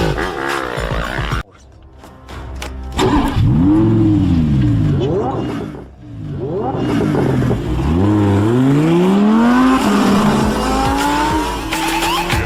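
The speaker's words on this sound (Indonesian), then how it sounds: "Tony yang saat itu memakai mobil Lamborghini Aventador. Lalu mereka pun beradu kecepatan." A Lamborghini Aventador races in a high-speed chase, its engine revving in rising and falling sweeps with screeching tires, loud and close, with voices and a brief cut to near-silence in between.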